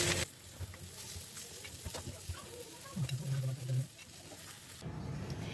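Fish frying in hot oil as it is lifted out, a steady sizzle with stirring and scraping, a brief tonal squeak partway through, and the frying noise dropping back near the end.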